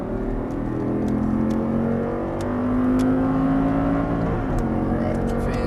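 An Audi R8 accelerating hard on a race track, its engine note climbing steadily in pitch. The sustained, loud roar stays close throughout, with a whirring drone underneath.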